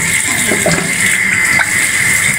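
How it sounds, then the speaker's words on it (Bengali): Running water splashes steadily as a chital fish is rinsed under the tap, a continuous close wash of water with small bursts of spatter and no talking. "আপনাদের আপু মাছটা ভালো মতো ধুয়ে নিতেছে।"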